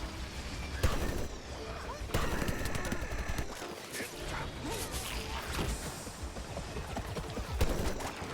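Gunfire from an enemy team in a video game, with rapid bursts of shots, crashes and whooshes in a busy, fairly loud mix, and voices mixed in.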